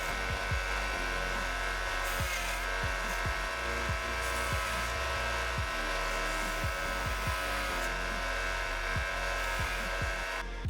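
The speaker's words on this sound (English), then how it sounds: "I took them over to my belt grinder and tidied them up a little" A belt grinder running steadily while rough steel pieces are tidied at the edges, a continuous loud abrasive whir with repeated short knocks and scrapes as each piece meets the belt.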